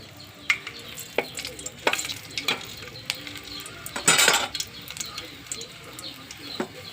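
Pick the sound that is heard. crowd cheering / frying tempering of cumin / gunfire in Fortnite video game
frying tempering of cumin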